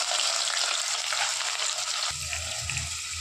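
Mustard seeds crackle in hot oil, then onion drops into the pan and the sizzle deepens into a steady, close, continuous frying hiss with no talk.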